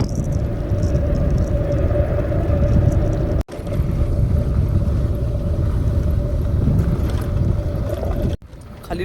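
A tractor heads home along a road after finishing work, its engine giving a steady, loud low rumble throughout with a brief dropout partway through and near the end.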